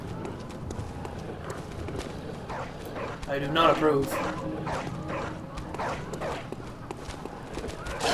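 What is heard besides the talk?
dogs barking and running in video game Bloodborne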